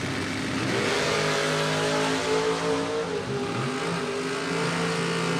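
Drag race cars launching off the line at a door-car drag racing event, engines revving hard with rising, layered harmonic tones as both cars accelerate away, loud and continuous.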